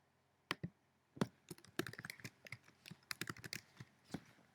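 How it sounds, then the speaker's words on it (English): Rapid keystrokes on a computer keyboard clatter in irregular bursts, with a few louder isolated taps between runs of quicker, lighter clicks, close and fairly quiet with no talking. "you're going to make sure you type your last name up here at the top"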